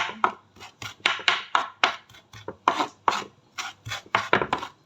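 Knife chopping siomai filling finely on a board, a fast run of crisp, close, uneven chops in short bursts with brief pauses between, no voices.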